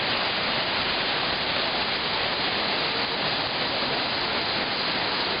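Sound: Düden waterfall, Turkey

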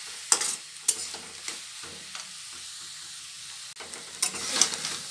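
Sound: greens and tempering sizzling in pan

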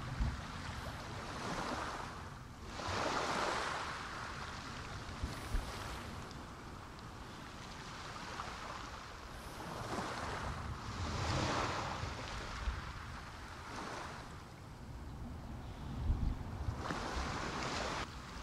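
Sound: ocean waves in the video game Hellblade: Senua's Sacrifice

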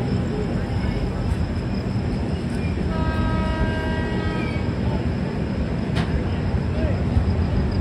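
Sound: Duronto Express train running at speed

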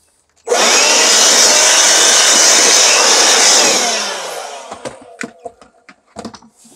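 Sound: cordless blower blowing debris

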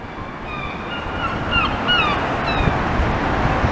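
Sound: sea waves at the beach

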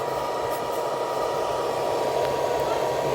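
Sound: charger cooling fan spinning

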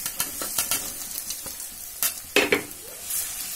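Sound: urad dal being added and stirred in a pan

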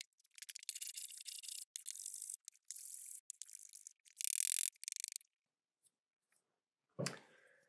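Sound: sharpening Hock and Stanley plane irons

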